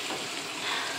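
Lemon garlic salmon fries in a pan with a steady, bright sizzle, a continuous crackling hiss that stays close and even throughout, with no one speaking.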